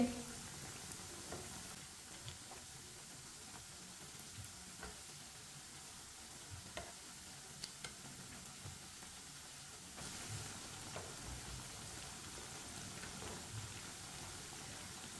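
Crispy onion pakoras sizzling in hot oil in a home kitchen, a steady soft crackling hiss with scattered small pops throughout, no voices.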